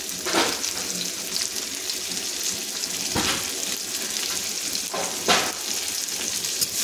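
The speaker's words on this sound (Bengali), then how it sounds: "তো সমস্ত টমেটো এখানে আমি দিয়ে দিচ্ছি তেলে" Tomatoes frying in hot oil with turmeric and salt for a fish curry give a steady close sizzle, with a few louder bursts and scraping stir strokes rising out of the continuous hiss.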